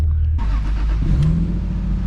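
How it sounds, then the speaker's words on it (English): An old Lexus car engine idles while warming up, then revs into a louder, rising mid-pitched roar, close and steady throughout with no voices over it. "I'm gonna warm up the old Lexus"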